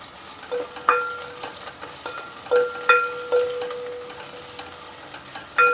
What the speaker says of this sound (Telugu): ఇప్పుడు మన పోపు అయితే వేగిందండి